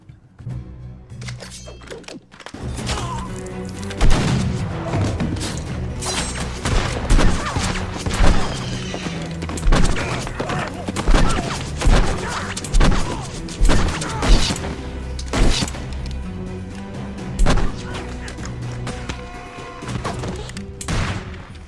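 Gunfire from a Westworld TV episode set in a Wild West town: repeated loud shots and impacts in irregular bursts over a busy, dense soundtrack, sustained for about twenty seconds.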